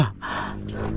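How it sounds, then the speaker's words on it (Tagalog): A cyclist gasps and pants heavily after pushing a loaded bike uphill on a bikepacking trip in Batangas, one sharp, close breath intake at the start followed by steady, rough breathing. "Hinihingal na ako."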